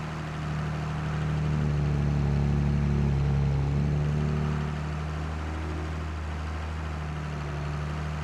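A tractor engine in Farming Simulator 22 drones at a steady low idle-like hum, swelling slightly midway, then settling back to an even rumble with no talk.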